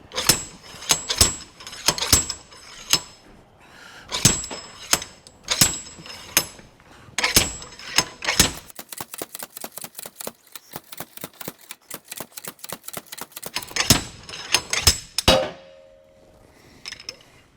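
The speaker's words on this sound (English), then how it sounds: "got both shafts out pretty easy with a slide hammer" A slide hammer pulling gearbox shafts makes sharp metallic clanks close by, first in spaced bursts, then in a rapid run of repeated hits, then slower heavy knocks again.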